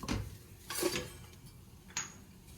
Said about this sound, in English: you really need to stir this roux because it becomes lumpy.